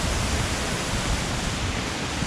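Steady, dense roar of falling water from the Juan Curie waterfall in Santander, Colombia, a constant broadband rush with no breaks and no voices.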